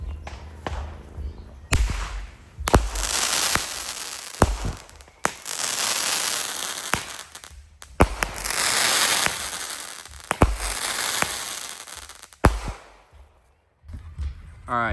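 Showtime Short and Sweet 8-shot firework cake going off outdoors, a series of sharp loud bangs spaced irregularly with crackling and fizzing between them, plus faint background voices.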